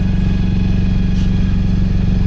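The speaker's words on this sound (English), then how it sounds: "I know, I'll start the engine." Auxiliary engine on a sailing boat running steadily in fog, a loud, close, low mechanical chugging with a continuous rattling throb and no voices.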